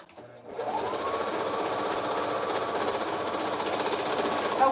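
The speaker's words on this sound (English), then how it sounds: "I just sewed and sewed and sewed until I there was nothing" A sewing machine stitches fabric in a rapid, steady mechanical chatter that runs unbroken for over four seconds, close and fairly loud.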